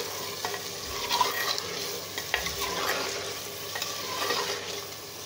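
Whole small cardamom, cinnamon and bay leaf sizzle in hot oil in a pan for chicken nihari, with a steady close frying hiss and occasional scraping stirs of a spoon.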